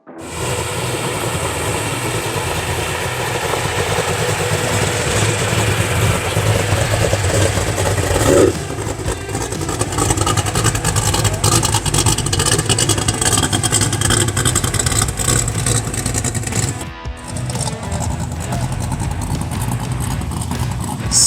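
A 1969 Ford Mustang engine runs steadily at an outdoor car show in Poplar, North Carolina, a continuous loud rumble held for about twenty seconds with a brief dip near the end and no talk.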